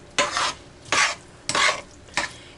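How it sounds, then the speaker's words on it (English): A brown sugar mixture stirred in a pan, four loud, close scraping sweeps of the spoon at a steady, unhurried pace with a faint sizzle between strokes, no talking. "Get that brown sugar kind of melted in. Just going to keep stirring."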